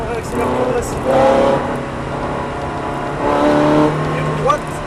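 Ferrari F430 on the Ledenon track re-accelerating in two surges with a lull between, engine rising each time under a voice talking over it, fairly close and moderately loud.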